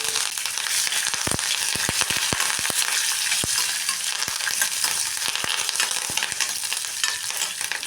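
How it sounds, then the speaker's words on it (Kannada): Mustard seeds, cumin, chana dal, urad dal and peanuts frying in hot oil: a steady, loud sizzle with sharp popping crackles of bursting seeds scattered throughout, close and continuous with no talking. "ಇದಕ್ಕೆ ಸಾಸಿವೆ ಜೀರಿಗೆ ಕಡಲೆಬೇಳೆ ಉದ್ದಿನಬೇಳೆ ಕಡಲೆ ಬೀಜ ಹಾಕ್ಕೊಂಡು ಇದನ್ನು ಚೆನ್ನಾಗಿ ಫ್ರೈ ಮಾಡ್ಕೋಬೇಕು"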